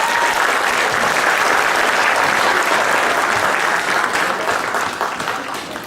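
Dense, sustained audience applause for performing artists, loud and steady throughout, easing off slightly at the end with no talk over it.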